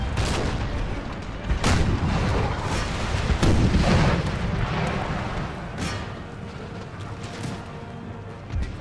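Artillery fires in Empire Total War, a Napoleonic-era strategy game: repeated deep cannon booms roll out at irregular intervals, some overlapping into a rumbling barrage amid battlefield din.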